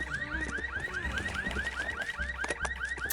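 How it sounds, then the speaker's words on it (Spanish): A car alarm in the zombie game Land of the Dead: Road to Fiddler's Green wails continuously, with rapid repeating rising whoops over a low rumble, loud and steady with no talking. "¡Ay, sonó la alarma!"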